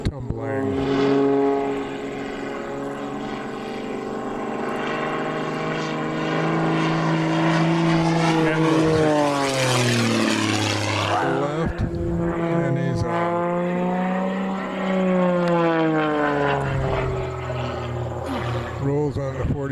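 Aerobatic airplane tumbling and rolling as the rudder is kicked over, its propeller engine droning loudly and steadily with rising and falling pitch throughout, a voice talking over it.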